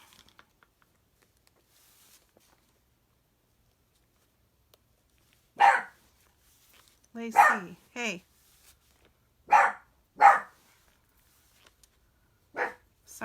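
A dog named Lacey barks in several separate loud, close bursts, with a quiet gap first and then a run of sharp woofs in a home setting; a person briefly calls out between the barks.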